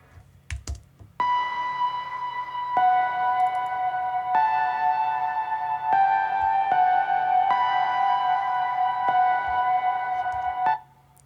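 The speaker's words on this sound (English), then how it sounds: "I added this little ping sound here." A short ping sample from Splice, barely processed and only shortened, repeats as bright tonal pings in a steady rhythm, about every second and a half, sounding clean and alone with no talk over it.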